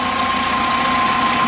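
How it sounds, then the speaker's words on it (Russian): A VAZ-2103 car engine idling with a smooth, even hum and no knocking, close and loud, steady and unbroken with no voices. "Хороший ровный гул мотора."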